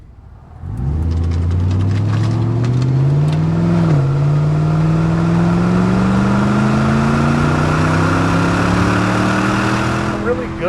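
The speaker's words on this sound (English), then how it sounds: "Really good sounding car too, even though it's stock exhaust." Stock-exhaust LS1 V8 in a low-mileage 1999 Pontiac Firehawk automatic catches and accelerates hard, a loud, close engine note climbing steadily, briefly dipping at a shift, then pulling higher again.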